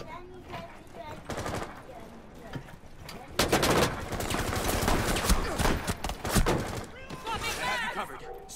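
Rapid bursts of automatic gunfire in a shooter video game, loud and close, with repeated volleys of shots and players talking over the action.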